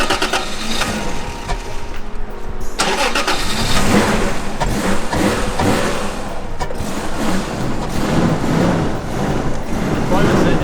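A car engine cranks and catches, then runs steadily at a rough idle, loud and close, with broadband rattling throughout.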